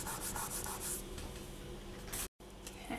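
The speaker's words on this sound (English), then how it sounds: "just continue burnishing until you flatten out your texture" A tool burnishes textured polymer clay with steady, close rubbing and scraping strokes, continuous and fairly quiet, cut by a brief dropout near the end.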